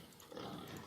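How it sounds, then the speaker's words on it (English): Pigs out in the snow in the village-building game Ostriv, grunting and oinking softly in a short, low, muffled burst with no talk over it. "Oh, poor piggies out in the snow, but they've produced baby ones again."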